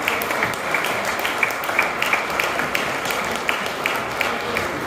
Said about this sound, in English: Give them a big round of applause as we do that.